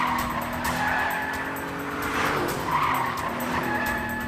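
A car drives fast with tires skidding and squealing, a continuous loud rush of engine and road noise with whining screeches rising and falling throughout, with no voices.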